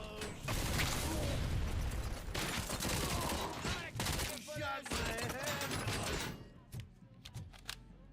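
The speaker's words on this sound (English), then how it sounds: "Oh, that's a big gun." Loud, dense bursts of heavy gunfire from a big gun in Robocop: Rogue City, sustained rapid shots with mechanical clatter for about six seconds, then tapering into sparse fainter shots.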